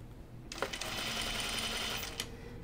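A sewing machine runs one steady burst of stitching through caftan fabric, starting abruptly and stopping after under two seconds over quiet room tone.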